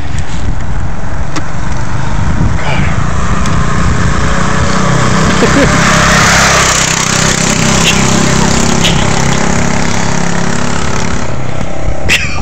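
A small go-kart engine fires up and keeps running, a loud, continuous buzzing roar with uneven revving, heard close and alone for the full stretch.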